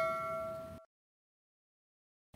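A notification bell sound effect gives one bright chime with clear ringing tones that decays for under a second, then silence follows.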